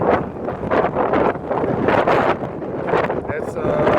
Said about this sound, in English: It's windy like always